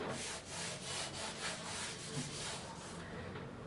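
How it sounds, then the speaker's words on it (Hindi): Steady rubbing of a duster wiping an equation off a classroom board, a continuous dry scrubbing with rhythmic strokes, close and moderately loud, with no talking. "तो अभी इसको रब कर लेते हैं ऊपर वाले इक्वेशन को।"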